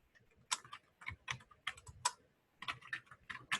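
Quiet, steady typing of Java stream code on a computer keyboard, quick runs of soft clicks broken by brief pauses, with no talking.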